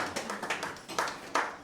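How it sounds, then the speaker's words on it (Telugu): A small indoor gathering at a calendar launch event gives a few scattered handclaps, sparse and fairly soft rather than a full burst of applause. "వారికి ఒకసారి మనం చప్పట్లు కొడదాం"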